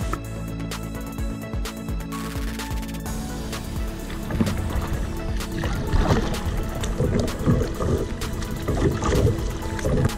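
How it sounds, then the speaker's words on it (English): Kayak paddling on a lake at a recreation area, with steady water movement and paddle splashes close by, growing a little louder halfway through, alongside wind and general outdoor ambience; no one talks. "I'm out just having a bit of a paddle out on the lake"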